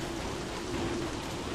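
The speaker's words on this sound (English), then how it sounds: "it's pouring rain" Pouring rain in the video game Don't Starve: a steady, dense hiss of rainfall that stays even and unbroken throughout, with no voices.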